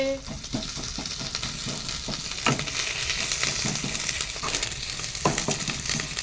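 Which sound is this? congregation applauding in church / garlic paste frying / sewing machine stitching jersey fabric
garlic paste frying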